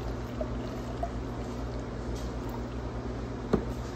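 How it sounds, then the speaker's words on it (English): Water is poured steadily into a container in a continuous, moderately loud stream, ending with a single sharp clink near the end. "We got the water added."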